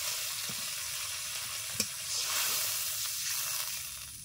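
Hot spiced oil in a pan for pabda fish curry crackles and hisses as a splash of water goes in, a steady broadband sizzle with one sharp pop near the middle that swells slightly louder afterward.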